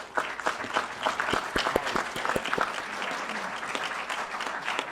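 Applause from an audience at a talk about the Varginha ET case, a steady, dense patter of many hands clapping throughout, with a few sharper claps standing out near the middle.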